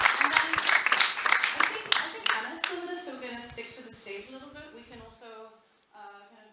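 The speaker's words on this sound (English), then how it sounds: "thank Andrea for the talk with a round of applause" Audience applause for a speaker after a talk, a burst of clapping that thins out and fades within a few seconds, followed by someone speaking.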